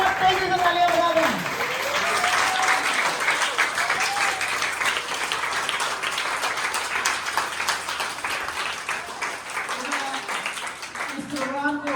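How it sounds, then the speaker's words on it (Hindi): An audience at an NGO's Teachers' Day celebration claps hard and continuously for several seconds, with a speaker's voice heard just before and as the applause fades. "तो एक बार बहुत तेजी से तालियां बजा दें।"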